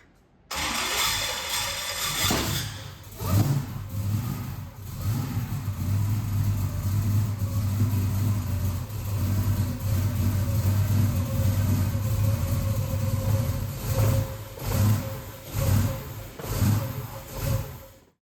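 Blown 7.3L V8 in a Ford XY Falcon starting up, then idling roughly and revving in repeated bursts inside a shed, loud and close, with a deep lumpy rumble and several sharp throttle blips toward the end.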